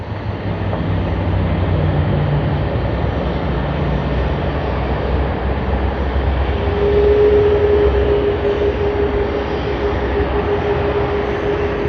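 Emirates flight EK412, just arrived at Sydney Airport, gives a loud, sustained jet-engine roar with a faint steady whine rising in the middle, heard from nearby with no talking.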